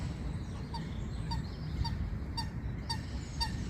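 Geese at a pond honking in a steady series of about six calls spaced roughly half a second apart, moderately near, over a constant outdoor background rumble.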